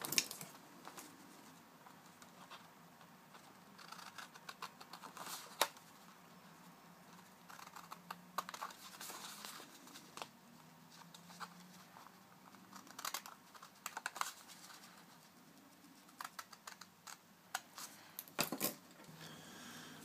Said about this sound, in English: So all you've got to do now is cut that out following the embossed lines.